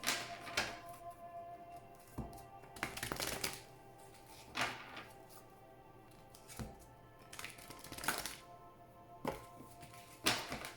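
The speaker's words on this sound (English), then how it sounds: "Please think of your question as I shuffle the cards." Several bursts of crisp card riffling, spaced a couple of seconds apart, with quieter flicks between them against a low steady background hum.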